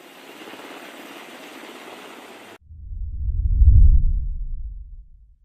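A US Navy helicopter carrying personnel to seize a cargo ship: a steady hiss of wind noise gives way to a deep, rumbling rotor drone that swells loudly, peaks and then fades away.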